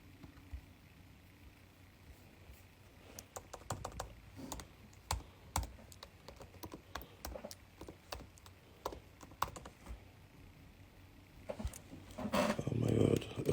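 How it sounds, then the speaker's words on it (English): Keys tapping on a computer keyboard as a password is entered, a scattered series of sharp clicks in irregular bursts, with talk in the background and a louder clatter near the end. "I'm trying to put in my password"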